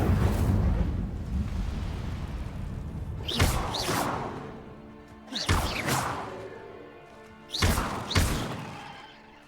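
Three Incendio fire spells cast in Hogwarts Legacy, each a whooshing burst with a fiery rumble, spaced a few seconds apart over a dull background roar.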